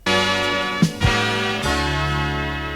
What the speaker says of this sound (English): I took that section and reversed it to create this transition sound.